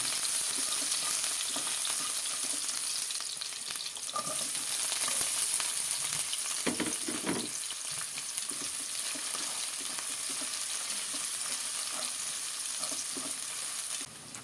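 Garlic and onion sautéing in hot oil, a steady close hiss and crackle that runs throughout, with a few brief stirring scrapes partway through and no talking.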